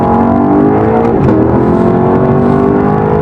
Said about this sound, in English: probably the most contributing factor to how fun this is that amazing engine note.